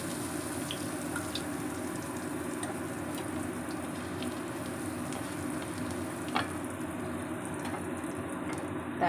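Asafoetida dropped into hot oil in a wok on the stove gives a steady, moderate sizzle and crackle that runs evenly throughout, with a few faint clinks and no talking.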